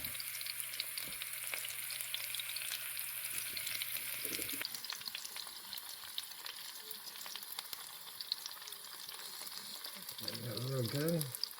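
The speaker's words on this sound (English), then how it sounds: "Cook them until they're golden brown." Bell pepper chicken patty rings frying in a pan, giving a steady close sizzle with a brief stir near the end and a faint hum underneath, with no speech.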